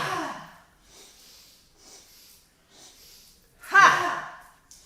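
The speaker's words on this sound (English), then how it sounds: "So inhale, inhale, inhale, ha. Sniff, sniff," During gentle yoga breathing, a few quick sniffing inhales are followed by a forceful breathy exhale, soft airy puffs near the microphone ending in one louder burst of breath.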